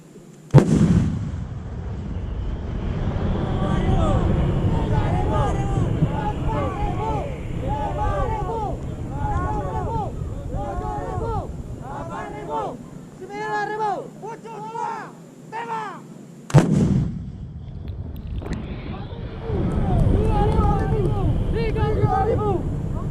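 A 155 mm army cannon fires during artillery practice in Aceh, giving two sudden loud booms about sixteen seconds apart, each followed by a long rumbling tail, while several people shout and talk throughout.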